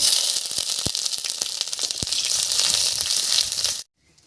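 Loud, bright sizzling of grated ginger frying in hot mustard oil with a bay leaf, with scattered pops and crackles, which cut off abruptly into near silence at the end.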